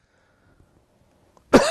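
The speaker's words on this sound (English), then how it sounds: "sorry for coughing" A man gives a single loud, close cough after a stretch of near silence, the burst arriving abruptly right at the end.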